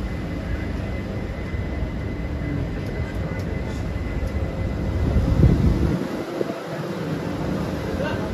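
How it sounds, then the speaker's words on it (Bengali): A continuous rumble and wind-like roar of a passenger train on the Shalimar to Puri run leaving Mecheda station, heard from on board with steady rolling noise. "মেচেদা স্টেশন ছেড়ে দিয়েছে।"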